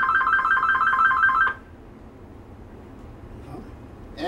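A telephone rings with a steady, warbling electronic trill, fairly loud and close, repeating for about a second and a half before cutting off, leaving a low background hum.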